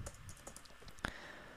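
Soft keystrokes from typing text on a computer keyboard, a few faint scattered clicks with one sharper tap near the end, quiet and close with no talking.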